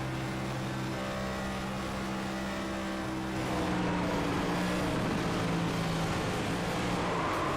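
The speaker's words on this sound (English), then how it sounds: "Let's listen on in here how these tires sound" A NextGen stock car in iRacing at Auto Club Speedway holds a loud, steady engine drone alongside tonal tire and engine whine that shifts in pitch as the car works through traffic.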